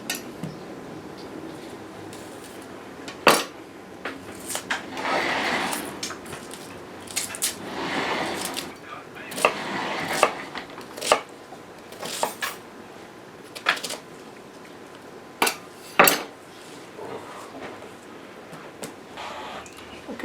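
Knife slicing through a fresh onion on a board, a series of crisp crunchy cuts at an irregular pace, each with a sharp tap as the blade meets the board, close and clear with no talking.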